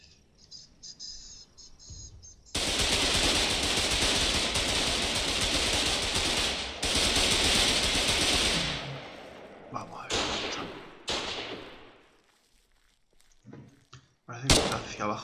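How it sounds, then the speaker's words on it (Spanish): Gunfire and mortar fire in the war video game Foxhole: a quiet start, then a long loud stretch of dense battle noise with sharp bangs and blasts that fade into scattered, more distant shots and thuds near the end. "ya se empiezan a escuchar los primeros disparos. También parece que hay fuego de mortero."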